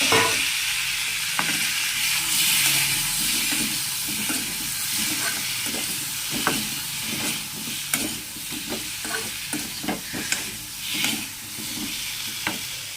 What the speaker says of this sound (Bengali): এটাকে একটু নাড়ি, ভাজা ভাজা হলে জল দিয়ে ফুটিয়ে নেব